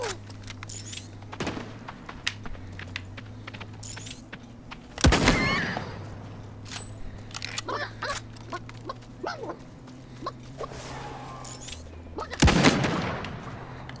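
Gunshots fired at a chicken in the video game Realm Royale, a scatter of sharp cracks and two heavier blasts over a low steady hum.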